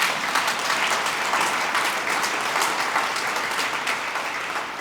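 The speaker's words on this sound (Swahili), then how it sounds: "Tunaweza kumpigia Mungu wetu makofi jamani." A church congregation claps together in sustained, dense applause at a Pentecost service, a steady wash of many hands filling the space without a break.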